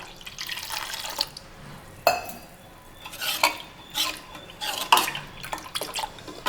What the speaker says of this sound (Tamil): அதுக்கப்புறம் தண்ணி ஊற்றிக்கலாம்.